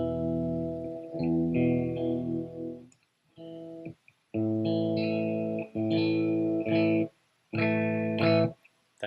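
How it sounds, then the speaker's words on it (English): Clean electric guitar tone played through a Leo Jaymz IR Box with nothing pushing it, a few sustained chords and phrases separated by brief pauses, clear and upfront with no voice over it. "when you do run this with nothing behind it, you get just clean tone"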